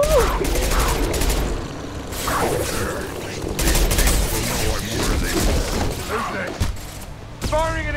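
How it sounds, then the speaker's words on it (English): Gunfire and impact shots in the video game Mass Effect 2, with bursts of rapid shots, heavy thumps and mechanical clatter, loud and close, while people talk over the combat. "Firing an impact shot."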